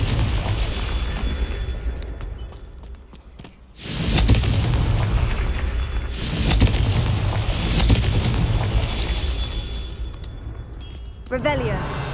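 Confringo blasting spells burst as loud, booming explosions in the Hogwarts Legacy video game, several heavy blasts roaring across the clip with a spoken voice over them.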